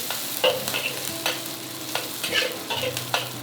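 Garlic and chili pepper frying in a pan, a soft steady sizzle broken by several sharp scraping stirs of a utensil spaced irregularly, close and fairly quiet, with no voices.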